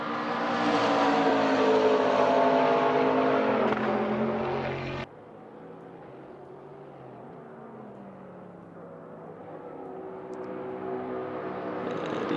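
A McLaren race car in a racing video game, its engine roaring loud and steady with harmonic revs for about five seconds, then cutting to a quieter, lower drone that climbs again toward the end.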